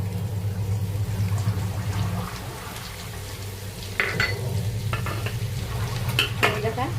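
Mustard seeds and cumin sizzle in hot oil in a pan, a tempering for onion chutney. The frying hiss runs steady and close throughout, with a few clinks and scrapes of a spoon near the end.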